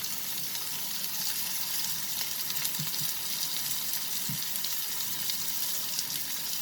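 Ginger garlic paste and tomatoes sizzle in a pan of frying translucent onions for a prawn curry with coconut milk, a steady close hiss broken by a couple of soft low thumps as the mix is stirred.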